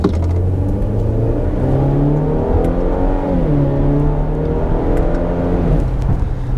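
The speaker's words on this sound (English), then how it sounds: "Let's just test acceleration takeoff here for just 1 second." A 2020 Range Rover Evoque compact SUV pulling away hard from a standstill, engine note rising steadily with a gear shift partway through, heard from inside the cabin, loud and continuous without speech.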